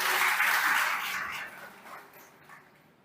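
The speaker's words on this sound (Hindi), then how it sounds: "हम तालियों से अपना खुद ही अभिवादन करते हैं" Audience applause at a school Hindi Day celebration, a broad wash of clapping that starts full and gradually fades away over a few seconds.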